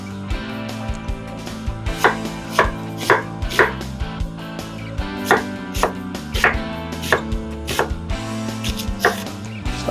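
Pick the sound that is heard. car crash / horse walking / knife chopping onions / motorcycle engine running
knife chopping onions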